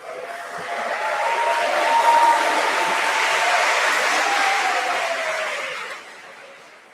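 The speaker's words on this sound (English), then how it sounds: "You will say ready and clap your hands in very high voice and clap fast." An auditorium crowd at a university new student orientation opening ceremony claps fast and continuously, a dense, even wash of hands that swells, holds for several seconds, then fades.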